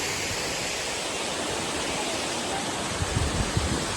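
Steady, full roar of rushing water from the Tortum Waterfall, close and constant, with a few low thumps near the end and no talk.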